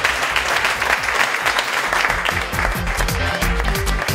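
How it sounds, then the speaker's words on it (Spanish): An audience applauds at a televised event, dense continuous clapping, loud and close, lasting several seconds alongside some lower background sound. "Un fuerte aplauso."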